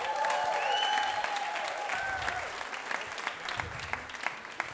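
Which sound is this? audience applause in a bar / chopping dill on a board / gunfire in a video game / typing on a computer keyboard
audience applause in a bar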